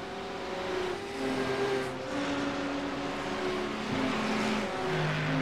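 Red Bull GT3 race cars in a racing video game, engines droning steadily with shifting pitches as several cars run together, moderately loud and without talk.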